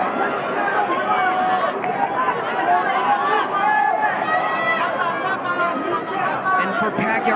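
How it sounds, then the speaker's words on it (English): Boxing arena crowd at the Pacquiao vs Barrios fight, a dense steady roar of cheering and chatter filling the hall, with talk heard over it. "Just listen to that crowd."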